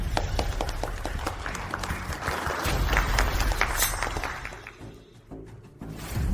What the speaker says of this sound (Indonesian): mari kita berikan tepuk tangan untuk grup Lin naik ke panggung